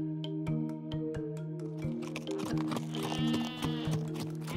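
Sheep bleating in a story scene, a series of wavering calls from several animals overlapping, with soft hoof-like taps and clicks in between.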